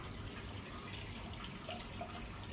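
Steady water running from a tap in the washing area of a Japanese public bath, a constant close splashing hiss throughout with no voices.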